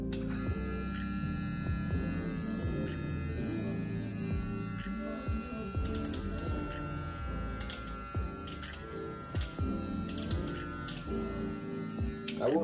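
Babyliss LoPro FX hair clippers buzzing steadily close by, a constant electric hum with faint clicks and shifts as the blades move.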